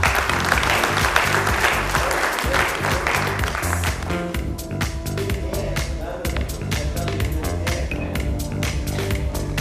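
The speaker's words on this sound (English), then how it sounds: "Big hand for Stephen" Audience applause for a panel speaker at the BMPA Print Summit 2012, a dense, steady clapping that runs for about ten seconds at full strength with scattered crowd murmur.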